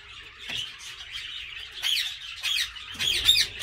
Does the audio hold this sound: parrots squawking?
yes